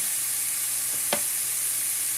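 Cumin seeds sizzling in hot oil in a pan while being stirred, a steady close hiss of frying with a brief scrape of the utensil, no talk.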